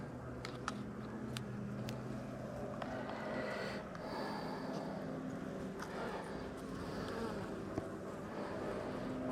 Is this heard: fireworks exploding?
no